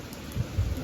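Steady rain patters throughout, with low rumbling swells that suggest distant thunder, all heard in a brief stretch with no voices.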